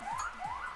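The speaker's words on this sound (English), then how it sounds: "Sorry about the sirens in the background." Siren wailing in the background, a faint rising and repeating electronic sweep heard twice within under a second, distant and alone.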